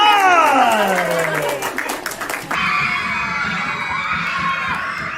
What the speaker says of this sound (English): Everybody give that mad scientist a round of applause!